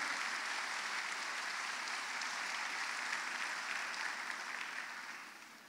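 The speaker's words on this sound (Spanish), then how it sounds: "Dale un aplauso de alabanza a Él." A crowd applauds steadily with dense, sustained clapping that fades slightly toward the end.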